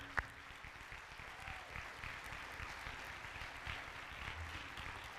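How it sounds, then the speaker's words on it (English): Steady, fairly quiet applause fills a graduation hall as the audience claps for administration staff standing in the room, a continuous even patter with one sharp louder clap near the start. "Your applause is appreciated for them anyway."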